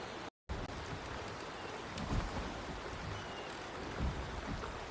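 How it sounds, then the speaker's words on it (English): Steady rain falls in the video game Wuthering Waves, a continuous even hiss of drops with a couple of slightly louder swells and a brief gap near the start, no voices. "The rain is subsiding, and the sky will soon clear."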